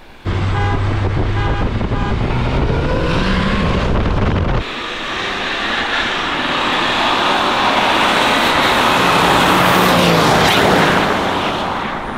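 A BMW 330D diesel revs hard and accelerates, a loud, close roar with a drop partway through as the car shifts, then a broad rushing surge with wind buffeting the microphone.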